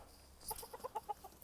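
A few quick, soft clucks from a chicken in a short rhythmic burst, fairly faint and close.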